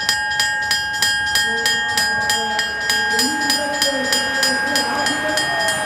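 A bell clangs repeatedly in a steady rhythm to mark the final laps of the Scheldeprijs cycling race in Schoten, ringing loud and close throughout with a commentator talking underneath.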